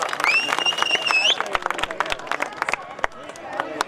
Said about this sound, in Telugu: గట్టిగా చప్పట్లు పెట్టాలి